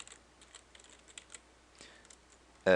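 Keystrokes typing code on a computer keyboard, a faint run of light, irregular clicks close by, ending in a sudden loud burst of noise.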